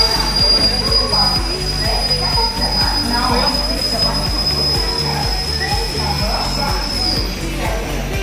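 A sleeper class train's wheels squeal in a long, steady, piercing screech over continuous rumbling and rhythmic clatter as the train slows near Secunderabad, loud and close throughout.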